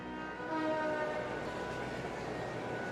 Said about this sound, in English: we changed trains at Breyhard Station, and rode the cruising main line north